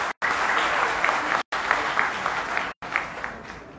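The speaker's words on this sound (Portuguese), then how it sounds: "Palmas para a doutora Marta." An audience at a Brazilian event breaks into sustained applause, a dense crowd of clapping hands filling the room, loud and continuous with brief abrupt cuts.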